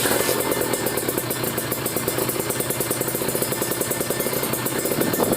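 A motorcycle idling with an iTech carbon exhaust silencer, a loud, continuous pulsing engine note at slightly elevated idle, with no gas revving and no voices.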